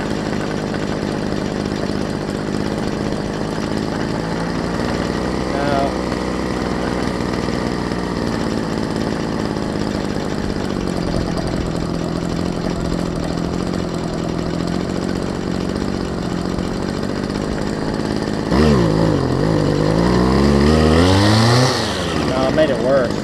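A Homelite ST275 weedeater with a freshly installed carburetor kit runs steadily near the microphone, its buzzing two-stroke drone changing as the low-speed idle is adjusted, then revving up and down near the end, with a voice talking over it.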